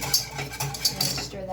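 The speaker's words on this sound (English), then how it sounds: "stir that in." A spoon stirs vanilla extract into a mixture in a bowl, giving soft scraping swirls with a few light clinks against the side. It is close and moderately quiet.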